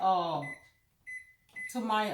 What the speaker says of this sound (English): I'm gonna put it in the microwave and let it soften up just a little.